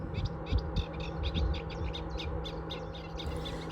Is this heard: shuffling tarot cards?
no